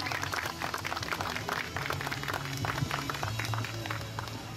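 An outdoor crowd at a market opening event in Kaohsiung claps steadily, a dense patter of many hands at moderate distance that holds evenly and then begins to fade.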